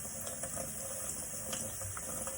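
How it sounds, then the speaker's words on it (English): Hot tap water runs steadily over an implement being rinsed, a faint, continuous hiss and splash with no voices. "So we are going to go ahead and rinse this with warm tap water, with hot tap water."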